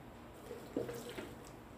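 Water for a two-ingredient passion fruit mousse pours briefly from a tap or into a container in a kitchen, a short soft splash and trickle heard alone.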